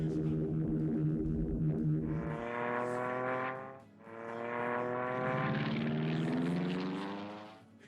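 Propeller fighter aircraft strafing in a Battle of Britain game, with two loud droning engine passes whose pitch bends downward, a brief dip between them, and the second swelling before fading out.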